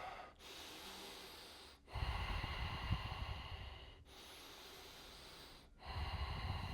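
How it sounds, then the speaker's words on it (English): Slow, deep breaths during a kneeling hip flexor stretch, long audible inhales and exhales alternating in a steady rhythm, close and fairly soft, with brief silent pauses between them. "Of course, we're breathing all the time."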